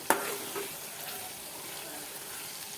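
Tomato with chili powder and coriander-cumin powder sizzles and fries in a pan while a spoon stirs it, steady close-up frying hiss with a few scraping strokes, one sharp clink at the start, no talk.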